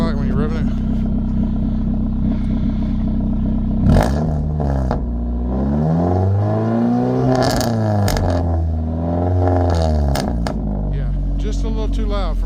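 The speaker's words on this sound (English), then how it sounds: "step on the gas just a little bit so I can let them hear what it sounds like when you're revving it" A Pontiac Solstice engine revs through its exhaust, a steady rumbling idle swelling into several loud rising and falling revs up close, with people talking over it.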